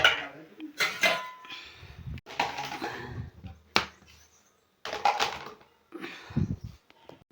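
Metal pots and utensils being shifted during a home kitchen renovation, giving scattered clanks, scrapes and knocks in uneven bursts with short gaps, close by, with some talking mixed in.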